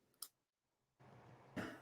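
A single short cough bursts out near the start of an otherwise quiet stretch, followed by a pause and then a rise of muffled room noise with another brief sharp sound near the end.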